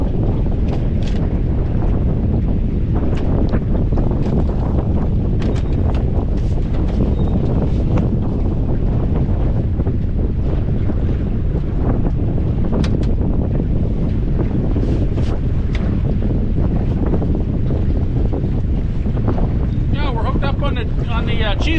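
Strong wind buffets the microphone on a fishing boat out on a lake, a constant loud roar with gusty surges and water slapping, steady throughout, with voices faintly present at times.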